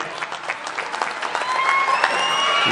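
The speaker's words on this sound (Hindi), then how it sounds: "जोरदार तालियों से फिर से" A crowd at an Urdu poetry mushaira in Ichalkaranji breaks into loud, sustained applause with scattered cheers and whistles, the clapping building slightly as it goes on.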